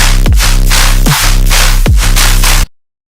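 A dubstep drop plays loud in a steady quarter-note rhythm, with heavy sub-bass hits and downward pitch dives on each beat under a bright, gritty synth wash, then stops abruptly.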